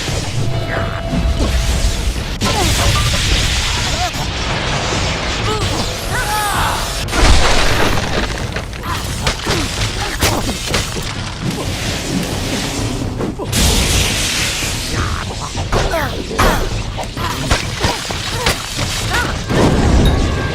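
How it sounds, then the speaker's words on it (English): A loud explosion goes off in the fantasy action RPG Kingdoms of Amalur, followed by crashing, shattering and whooshing combat effects over a busy game soundtrack, with some talk. "Boom. Not quite a dramatic explosion."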